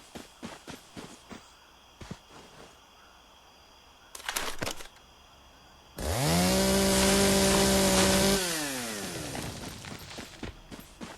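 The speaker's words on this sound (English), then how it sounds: "instead of using a pickaxe to slowly chop wood, I can just use my chainsaw" A chainsaw cuts a tree in the video game Once Human: scattered clicks and brief bursts come first, then the saw roars in loudly, holding a strong buzzing whine for a couple of seconds before easing off into a lower idle.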